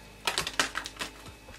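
Tarot cards being shuffled by hand, heard as a quick series of close, sharp clicking and slapping taps spread over about a second, with no talking.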